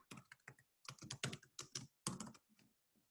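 Typing on a computer keyboard while writing code: quiet, close keystrokes come in quick, uneven bursts with short pauses between them.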